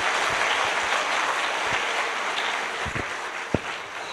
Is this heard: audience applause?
yes